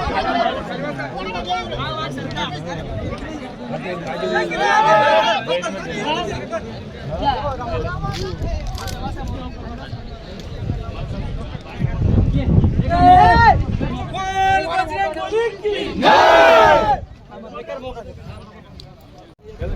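A crowd at a horse and bullock cart race in Maharashtra, India, celebrates the winning carts with loud overlapping shouts and chatter, swelling in bursts of cheering and whistling from nearby voices.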